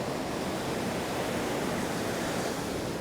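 Ocean surf breaking steadily on Boca Raton beach, Florida, during spring break, a continuous loud wash of waves close by with a little wind and no voices.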